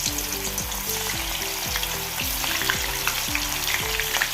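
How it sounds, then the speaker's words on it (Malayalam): Banana stem chips fry in hot oil in a kadai on a gas stove, giving a steady, close sizzle that runs throughout alongside a tonal, melodic background. "ഇനി ഗ്യാസ് ഓൺ ചെയ്ത് കടായി വെച്ച് കടായിൽ എണ്ണയുണ്ട് എണ്ണ ചൂടായി അടുപ്പത്തേക്ക് കൊടുക്കാം"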